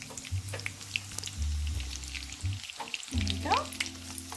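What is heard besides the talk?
coconut-crusted fish frying in oil in a pan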